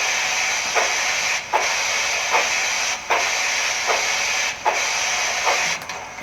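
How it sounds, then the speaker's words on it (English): A Tsunami2 steam sound decoder plays a model steam locomotive's cylinder cocks: a continuous loud steam hiss pulsing in a regular rhythm, each chuff briefly dipping and surging, with no voices. "Turn on our cylinder cocks."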